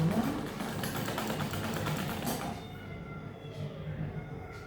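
A sewing machine runs steadily while stitching fabric in a straight line, a close, continuous whirring motor that eases off partway through and continues more quietly to the end.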